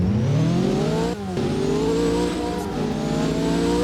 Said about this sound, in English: Let's actually go ahead and accelerate now.